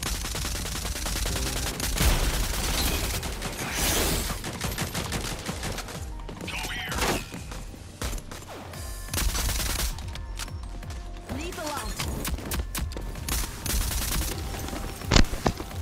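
Dense, nearly continuous gunfire from a bot shooting in the video game Rogue Company, with rapid bursts and overlapping shots throughout and faint voices underneath.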